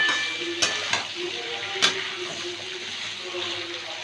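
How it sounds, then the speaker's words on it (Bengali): Vegetables fry in a pan with a little salt over medium heat, a steady close sizzle broken by a few sharp stirring scrapes and clinks, with no talking. "এবার একটু ভেজে নেব সবজিগুলো।"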